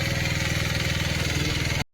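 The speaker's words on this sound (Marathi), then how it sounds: "तो ट्रॅक्टर दादाचा आहे" A tractor engine chugs steadily at idle close by on a rice paddy farm, a loud, even low throb that cuts off abruptly.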